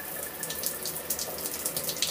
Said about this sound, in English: Electrical shower, so we're going to get heat, aren't we?